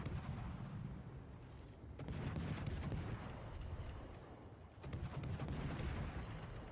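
Kitakaze warship guns firing high-explosive shells in a video game, two heavy booming salvos a few seconds apart, each with a rumbling tail over steady background noise.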